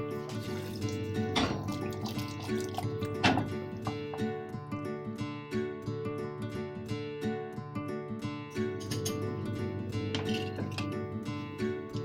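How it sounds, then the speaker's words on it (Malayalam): Water is poured into a pressure cooker of mixed vegetable kurma, giving a soft, steady liquid fill with a few dull knocks against the pot, heard close and fairly quiet. "ഒരു ഗ്ലാസും കുറച്ചും കൂടി ഒഴിക്കും."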